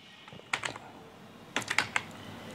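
Keys clack on a computer keyboard while text is entered in Photoshop, two short clusters of crisp close taps separated by a brief pause over quiet room noise, with no voices.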